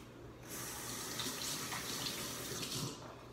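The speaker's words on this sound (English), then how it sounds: "I'm gonna wash my hands." Water running from a tap while hands are washed, a close steady hiss of flowing water that starts abruptly, splashes irregularly and cuts off after about two and a half seconds.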